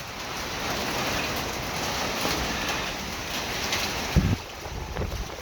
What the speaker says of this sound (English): We got another bad storm again.